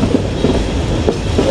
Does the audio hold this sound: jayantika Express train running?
yes